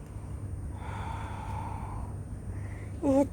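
Slow, soft breathing during a yoga stretch, a long hushed exhale over low room hum, ending with a brief sharper breath or sniff.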